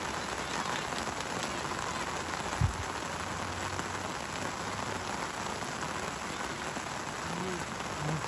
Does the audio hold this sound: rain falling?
yes